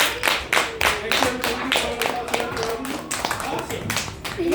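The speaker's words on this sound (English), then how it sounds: "Can we give a round of applause for Shirley?" Students in a classroom clap for a classmate named Shirley, giving a scattered round of separate hand claps at close range, uneven and fairly sparse, with voices talking over them.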